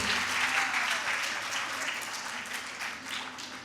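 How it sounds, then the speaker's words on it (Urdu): Audience applause at a breast cancer awareness event, a steady wash of many hands clapping that stays loud and continuous throughout, tapering slightly toward the end. "بھرپور تالیوں میں استقبال کیجیے۔"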